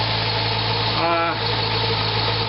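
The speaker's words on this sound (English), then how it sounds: "I'll give you one last shot of the motor running and the belt spinning, and AC belt is spinning down there" A Corvette engine idles steadily with its AC belt spinning over replacement pulleys, a constant mid-pitched hum and whir with faint vibration, heard close and continuous with no talking.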